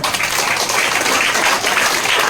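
A congregation at an Easter church gathering claps together, a loud, sustained, dense patter of many hands with an even rhythm and no speech over it.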